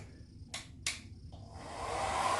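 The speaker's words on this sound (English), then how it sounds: "So I'm going to put it on the low speed" Two quick clicks sound before a hair dryer starts up on low speed, its steady airy whoosh building in strength, used to fix a slow cassette tape.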